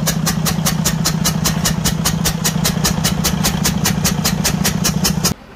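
A loud DD15 diesel truck engine with a broken cylinder valve idles with a rapid, steady ticking knock from the valvetrain, continuous and close, cutting off abruptly at the end.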